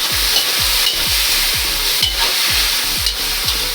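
Pork sizzles and fries in a pan with garlic and onion while a spatula scrapes and stirs in a steady rhythm, about two strokes a second, close up and loud over a constant hiss.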